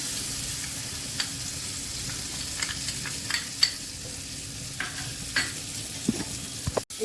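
Soaked moong dal frying with spices in a pan for mugeshwari potol, a steady close sizzle with scattered light clinks and scrapes of stirring over several seconds.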